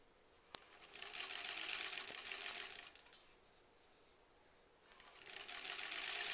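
A sewing machine stitches a quilt seam for the Granny Squares quilt in two runs, a steady whir of about two seconds, a pause, then a second run starting near the end, fairly close and moderately loud with no talking.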